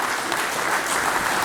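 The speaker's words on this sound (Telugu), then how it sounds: "గట్టి చప్పట్ల ద్వారా వారికి స్వాగతం పలుకుతూ" An audience at a talk on chemical versus natural farming gives Shyamasundar Reddy a welcoming round of applause, steady, loud and dense throughout, with no voices over it.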